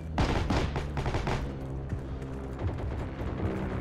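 Dense gunfire in the World War II shooter Heroes and Generals, a loud cluster of overlapping rifle and automatic shots early on, giving way to a continuous rumbling barrage of battle noise.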